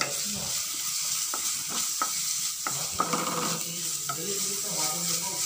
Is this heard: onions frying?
yes